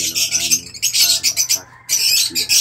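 Young pet fledglings give high, rapid squeaky chirps in quick bursts, close and fairly loud, with a brief pause before the chirping resumes.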